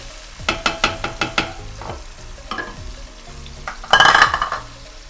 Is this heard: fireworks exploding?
no